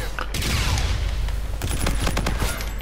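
Gunfire in Call of Duty on the Terminal map, with a sniper rifle among the shots: loud bursts and booms in rapid succession over a constant rumble, with several sharp reports near the end.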